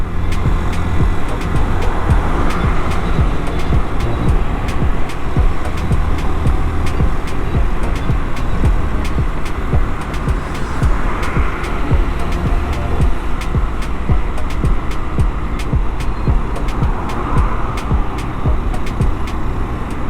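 A cold Honda CB 125 F motorcycle engine runs steadily while riding, a loud continuous low drone with wind rush and road noise, the throttle held gently without revving hard.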